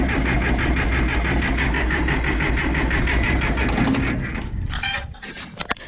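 An old 52-year-old diesel tractor that had sat unused for years cranks with a rhythmic, labored starter churn, loud and close, then the cranking slows and stops, followed by a few clanks.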